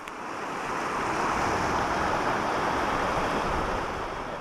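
A rushing river runs at near full volume just downstream of its confluence with a creek, a steady broadband roar of moving water filling the scene, close and constant, with some wind buffeting and no voices.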